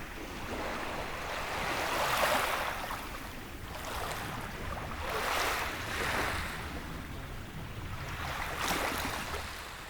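Calm Baltic Sea waves washing onto a beach in the morning, soft swells rising and falling in a slow rhythm about every two seconds, with a light breeze hiss underneath.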